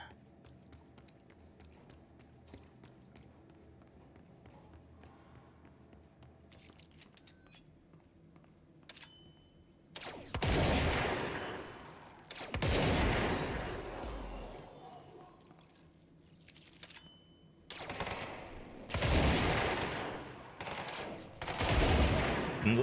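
Heavy gunfire from the player's weapon in the video game Control, arriving in loud dense bursts around the middle and end after a quieter stretch of ambient game sound.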